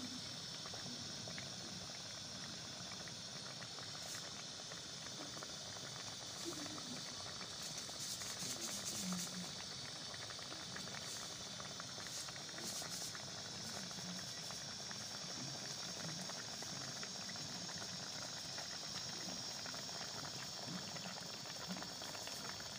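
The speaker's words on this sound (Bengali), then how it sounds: "তো এই তো সুন্দর করে ফুটে গেছে তরকারিটা, নাড়িয়ে নিলাম।" A pot of okra curry in mustard-poppy seed paste boils on the stove, a steady low bubbling simmer with soft pops, continuous and close, with a faint hiss throughout.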